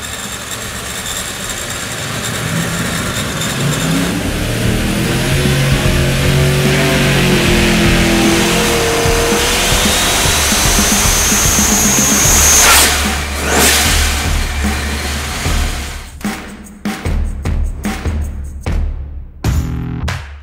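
A ProLine supercharged Hemi V8 with FuelTech injection, making a light test pull, roars loudly up through the revs for about twelve seconds, then cuts out and sputters in choppy bursts as it winds down.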